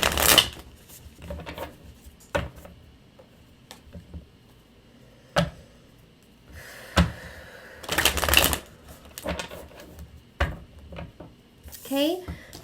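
A Lumina Tarot deck is shuffled close by in short bursts of riffling and tapping, separated by quiet gaps, and someone talks softly between them.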